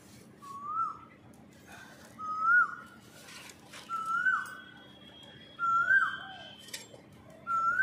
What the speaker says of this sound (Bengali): কোকিল ডাকছে তো